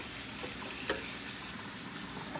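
Celery is washed under running water, a steady faint hiss of flowing water with a few soft splashes and handling noises.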